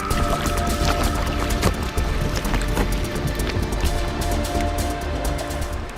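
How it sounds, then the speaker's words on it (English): Ice grinding against itself and bubbles popping in an ice-jammed Antarctic cove, a dense, continuous crackling wash that is loud and close, with no voices. "The sound of bubbles popping, the sound of ice grinding against itself."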